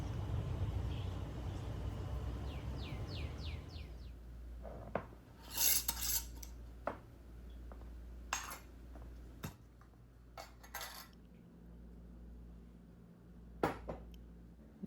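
A utensil mixes coconut milk yogurt in a bowl, scattered scraping and clinking strikes against the dish, fairly close and irregular, in an otherwise quiet kitchen.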